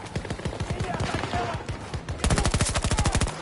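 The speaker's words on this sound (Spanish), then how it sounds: "¡Me están disparando!" Rapid automatic gunfire in the shooter Battlefield 2042 rattles in dense bursts that grow louder and faster toward the end, with a voice shouting over the shots.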